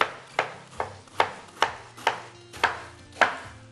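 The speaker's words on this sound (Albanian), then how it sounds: "Presim edhe lakrën tjetër" Cabbage is chopped on a board for a dish of bacar with cabbage and sujuk, in eight crisp, evenly spaced knife strikes with light rustle between them, close and alone.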